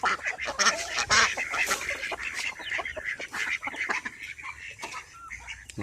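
Ducks and geese honking and quacking while being fed on a rural property, a busy overlapping flock chorus of frequent calls, fairly close, with no speech.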